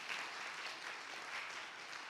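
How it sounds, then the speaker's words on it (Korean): Church congregation clapping together during a Sunday service, a steady dense applause that fills the whole stretch without a break, with no voices standing out. "우리 박수 한번 쳐주세요."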